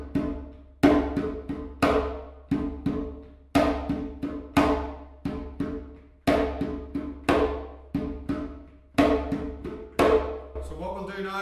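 Hands on a djembe beat out a Kurubi rhythm of tone, tone, slap, repeating. The close, crisp strikes come in even clusters, with the sharper slaps ringing brightest and no talking.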